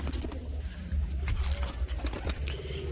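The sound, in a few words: pigeon cooing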